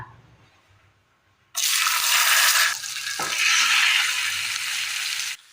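Masala-coated karimeen, pearl spot fish, dropped into hot oil, bursting into a loud, close, broadband sizzle that holds for several seconds before cutting off, with no talk.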